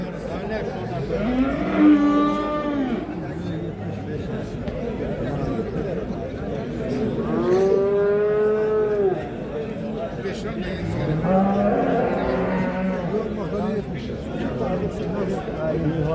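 Cattle at the Sungurlu livestock market in Çorum, Turkey, give three long, loud moos spaced a few seconds apart over a steady crowd murmur of the market.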